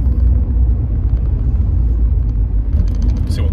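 A 1991 Mercedes-Benz 190E 2.0 E drives on the A55, a loud steady low cabin rumble of engine and road noise from inside the car, continuous and without speech.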